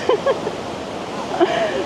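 Water from the Trevi Fountain in Rome splashing and rushing as a steady broad wash, with brief voices and chatter of people nearby rising over it.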